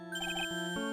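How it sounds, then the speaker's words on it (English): A short tonal mobile phone ringtone with a quick melodic run of bright beeps and then a shift to a lower sustained note, fairly loud and alone. "Sorry, that's my phone."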